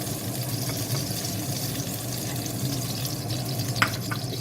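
Ingredients for beef caldereta frying in a pan, a steady soft sizzle throughout with one brief clink near the end and no talking.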